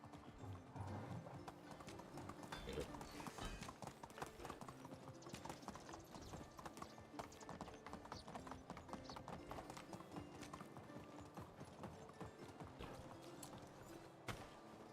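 Horse hooves clip-clop steadily and continuously in the medieval survival game Medieval Dynasty, a dense rhythmic trot over a busy backdrop of game ambience and mechanical creaking, with no talk.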